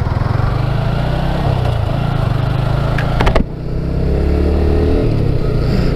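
A motorcycle engine starts and runs at a steady low idle, dips briefly with a sharp clatter partway through, then settles back into an even rumble; loud and close, with no talking.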